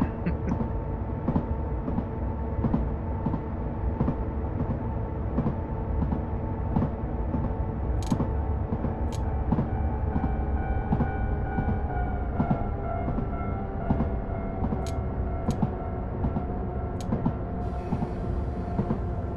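A train with magnetic brakes runs steadily along the rails between Oji and Gojo with a rhythmic clatter of wheels over joints, a continuous rumble and occasional high squeals and clicks.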